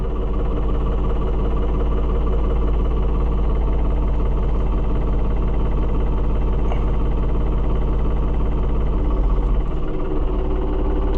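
A New Holland TN75DA tractor engine idles steadily throughout, a constant low rumble and vibration with no change in pace, close and fairly loud.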